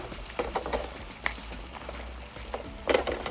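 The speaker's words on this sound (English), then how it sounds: "we're going to allow this to simmer until it becomes a jammy consistency" Bacon and onion jam with guajillo chili and coffee bubbles in a pan, soft irregular pops and sizzling patters over a quiet background, with no talk.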